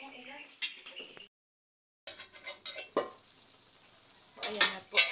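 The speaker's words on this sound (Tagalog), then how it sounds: "ilalagay na yung kamatis, tapos hahaluin" Chopped tomatoes for chicken biryani being stirred in a hot pan, with sizzling and scraping strokes in bursts, a brief silent gap, then louder stirring clatter near the end; someone talks between strokes.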